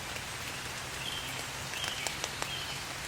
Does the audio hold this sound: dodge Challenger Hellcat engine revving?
no